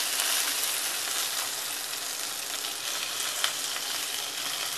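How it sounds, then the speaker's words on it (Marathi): Stuffed green chillies with stems left on fry steadily in a pan, a continuous bright sizzle with a faint stir or scrape partway through, close and alone. "आपण सर्व बाजूने पण त्या मिरच्या छान अशा ब्राऊन करून घेणार आहोत"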